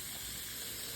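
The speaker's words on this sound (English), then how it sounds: "Just let that just sizzle away." Cabbage and bacon sizzle in a hot pan, a soft, steady crackling hiss heard briefly and fairly quietly.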